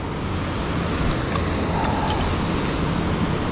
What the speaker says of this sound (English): So we got the wind over here